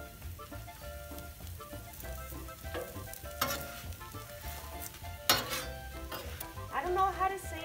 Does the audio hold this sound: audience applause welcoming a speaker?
no